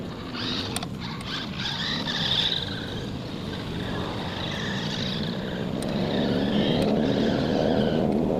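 A small Hot Wheels RC car drifts over loose soil, its electric motor whining steadily with rising pitch while dirt hisses and scatters beneath the tires, close and continuous.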